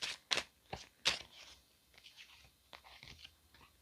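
Tarot cards being shuffled and drawn up close, a few sharp riffling snaps at the start followed by softer sliding and tapping card sounds.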